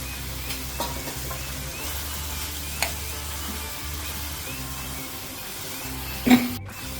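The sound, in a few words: boiled brain added and stirred into frying masala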